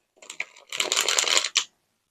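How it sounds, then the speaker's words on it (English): A short riffle of tarot cards being shuffled close by, a few quick flicks followed by a sustained papery flutter that stops abruptly. "I'm just going to shuffle some tarot here"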